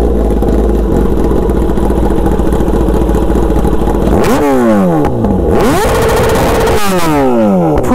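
A Kawasaki ZX-10R superbike fitted with an SC Project S1 exhaust revs hard and loud, holding a steady roar before several sharp rising and falling throttle blips near the end.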